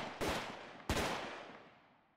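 Sniper units in SCP Tower Defense, a video game, fire two loud, sharp shots about two-thirds of a second apart, each followed by a long fading echo tail.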